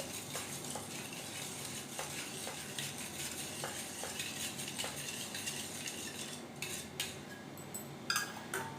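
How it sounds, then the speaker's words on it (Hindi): A spoon stirs ground sugar into a prasad mixture, giving faint, steady scraping and soft clinks against a bowl, with a few sharper knocks near the end, no speech. "तो अब हम इसको भी इसी में मिला लेंगे और इसको अच्छे से मिक्स कर लेंगे।"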